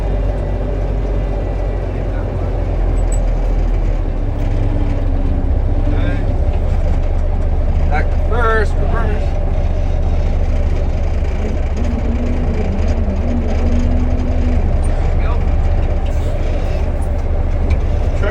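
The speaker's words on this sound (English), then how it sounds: "Well, feels good to have the truck going." A 1964 Kenworth logging truck drives along on a rough road, its engine a steady low rumble and drone throughout, with occasional creaks and rattles over the top.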